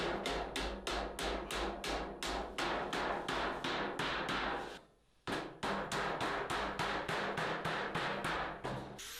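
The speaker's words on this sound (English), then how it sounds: "all I had to do was turn the flange up over on the anvil" Rapid, steady hammer blows ring out as a sheet metal flange on a forge hood is turned over on an anvil, roughly two strikes per second, loud and close, with a short pause midway before the hammering resumes.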